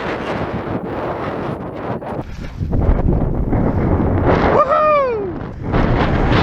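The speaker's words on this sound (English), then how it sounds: "the wind's gone from almost nothing to now being almost too strong" Strong gusty wind buffets the microphone at a coastal cliff-top paragliding launch, a loud continuous roar with surges; a brief whistling tone sweeps through near the end.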